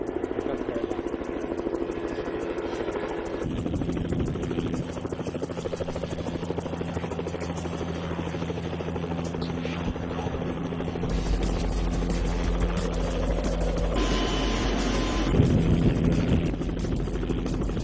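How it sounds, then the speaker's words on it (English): A helicopter's rotor makes a steady, loud thudding chop that grows heavier and deeper toward the end as the aircraft comes in close, with no talk over it. "We're waiting for a helicopter to come pick us up"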